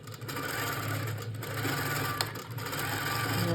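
A Handi Quilter Pro Stitcher quilting machine stitching a quilt, its steady, close mechanical hum and rapid needle chatter running continuously without pause.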